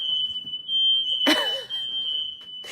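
A smoke alarm set off by cooking left on too high beeps in a continuous high-pitched shrill tone, fairly faint and steady, broken by a sharp burst of noise partway through.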